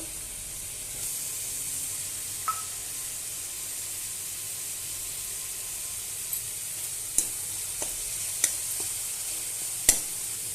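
Chhana, a fresh cottage cheese, drops into a frying masala, which keeps up a steady hiss and sizzle broken by a few sharp spitting pops toward the end. No one speaks.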